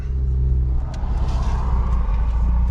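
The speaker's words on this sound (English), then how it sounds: "now we're just gonna take it for a drive, let it get warmed up, and see how the suspension feels" A Mazda RX-8 pulls away on a drive to warm up, its engine rumbling and revving up from a low idle note into steady acceleration, heard close and continuous.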